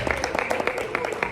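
Audience applause at an international medical conference in Canada, a short burst of dense, steady clapping with a few sharper claps, heard fairly close with a voice faintly underneath.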